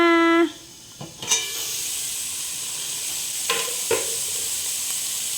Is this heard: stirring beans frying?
yes